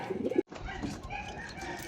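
Pigeons coo softly in a short burst, close by at a loft, with faint rustling around them.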